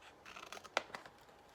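Scissors snip through paper close by, a few quiet crisp cuts with one sharper snip standing out, alone with no talking.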